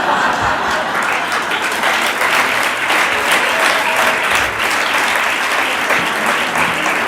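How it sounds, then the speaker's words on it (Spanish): A conference audience breaks into a sustained ovation, dense loud applause rolling on steadily for several seconds. "Con una ovación como esta casi"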